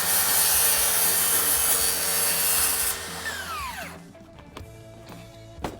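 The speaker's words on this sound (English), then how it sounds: "So I've chosen to use a circular saw for this cut. And I'll go ahead and make that cut right now." A circular saw cuts through a glue-up stone tile, a loud steady whine for about three seconds, then the blade spins down in a falling pitch, followed by quieter clatter and handling noises.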